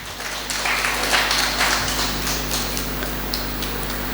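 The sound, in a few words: applause for the engaged couple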